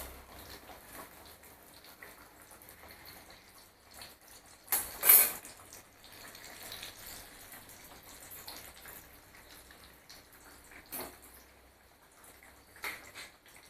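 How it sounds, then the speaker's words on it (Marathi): Corn cutlets shallow-fry in a pan over a medium gas flame, giving a faint, steady sizzle and crackle. One louder clatter stands out near the middle and a few softer knocks follow, with no one talking. "मीडियम गॅसवरती त्याला तळून घ्यायचं आहे"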